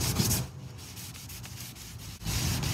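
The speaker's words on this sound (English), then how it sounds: "Just dab some on a t-shirt and put it on your table." A cotton t-shirt dabbed with baby oil rubs across a wooden tabletop, giving a soft, close scuffing swish. It is louder at the start and end, with a lighter stroke in between.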